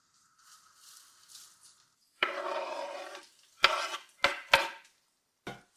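Savoy cabbage strips drop into a hot pan with a soft hiss and sizzle, followed by several short, sharp scraping and clattering stirring strokes close by, with a faint lighter frying sound beforehand.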